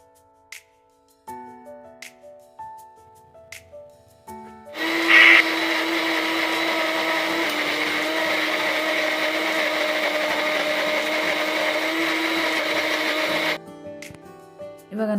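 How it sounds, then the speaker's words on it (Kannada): Kitchen mixer grinder blending onion and tomato into a paste, a loud steady motor whine running about nine seconds after an abrupt start, then cutting off, with quieter clattering before and after. "ಮಿಕ್ಸಿ ಮಾಡ್ಕೊಳ್ಳೋಣ."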